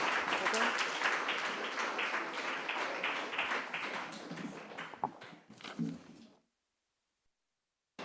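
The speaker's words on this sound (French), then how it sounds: "Vous pouvez les applaudir aussi." Studio audience on a French television show applauds steadily and loudly for several seconds, thinning into scattered claps before cutting to silence.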